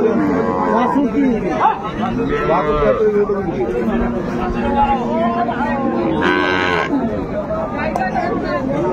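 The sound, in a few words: cow mooing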